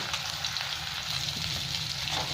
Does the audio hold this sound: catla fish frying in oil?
yes